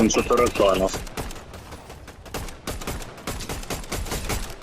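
Rapid bursts of gunfire in a Fortnite match crack out close and loud at first, then continue as scattered shots, under a player's excited talk.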